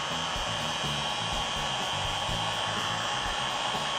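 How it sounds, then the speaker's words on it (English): A heat gun set to low heat, used while building USB outlet extension wires, gives a steady, close blowing rush that holds level throughout, with a faint low hum beneath. "So then I got a heat gun"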